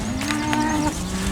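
Cattle and heifers mooing in a field during morning feeding on a farm, a sustained low, drawn-out bellow from a nearby cow over steady outdoor background.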